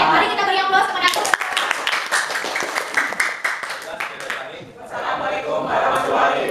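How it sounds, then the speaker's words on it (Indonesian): Classroom group presentation session met with applause from a room of students, dense clapping across the whole span mixed with voices and chatter. "mari kita beri aplaus kepada aku"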